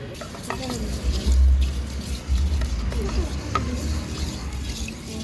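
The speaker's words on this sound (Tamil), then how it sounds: "இப்போ ரொம்ப கிண்டியாச்சு" Drumstick pieces being stirred in a pan for biryani, with continuous close scraping and sizzling, a few utensil clinks and low rumbles throughout.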